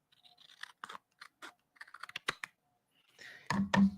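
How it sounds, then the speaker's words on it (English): Paper scissors trim the edge of a piece of card stock for a handmade fall card, giving a few crisp snipping cuts up close before a louder rustling cut at the end, with no talking. "We can probably just use our paper scissors to even this off a little bit."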